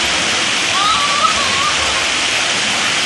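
Steady broadband rush of falling or splashing water at a resort pool or waterfall in Muak Lek, Saraburi, continuous and fairly loud, with a faint voice briefly audible over it.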